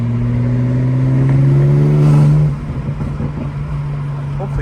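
A BMW M4 fitted with front-mount intercoolers revs close by. The engine tone climbs steadily, then drops back to a lower rumble, with faint background noise.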